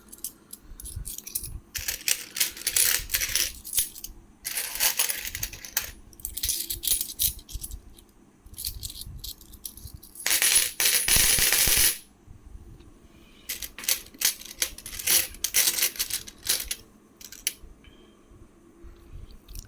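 Uncirculated Nepalese two-rupee coins from a packet of fifty clink and rattle in bursts of jingling metal, separated by short quiet gaps, close up with no speech.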